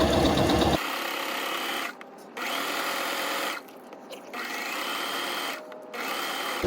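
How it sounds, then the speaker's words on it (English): A sewing machine stitches and backstitches a seam on a fabric tote bag in three or four quick motor bursts separated by short pauses, close and clear. "Let's go ahead and stitch this. We want to back stitch because we want this to be permanent."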